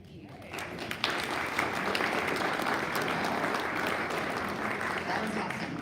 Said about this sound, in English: Let's give another round of applause to the Norman North Jazz Choir.